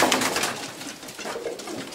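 Pigeons coo softly and continuously inside a pigeon loft housing mostly pigeons, a low, close, steady murmuring with no voices present.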